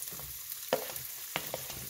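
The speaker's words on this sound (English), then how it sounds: "So now we want to add our veggies." Shredded carrots, onions and peppers frying in a pan for Creole cabbage, with a soft sizzle and a couple of sharp stirring scrapes close by; no voices.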